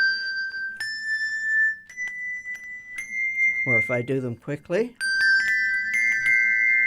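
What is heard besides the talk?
handbells rung in four-in-hand technique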